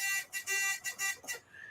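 An electronic buzzer sounds in a rapid series of harsh, tonal pulses, four or five short blasts ending in a longer one before fading, fairly loud and close.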